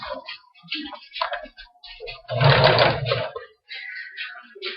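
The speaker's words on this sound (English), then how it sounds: "I just make sure that it's matched up on the side, and then I put it through my machine." A home sewing machine stitches quilt block pieces with a 1/4-inch seam in one short close burst of rapid whirring, set among quieter handling clicks and rustles.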